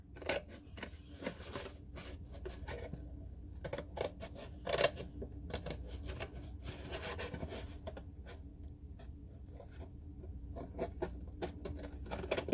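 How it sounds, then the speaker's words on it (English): Scissors snipping through the back of a cardboard tissue box, a dense run of quick crisp cuts and rustles close up, steady throughout with no talking. "I can get in there with my scissors and take away the rest of the back"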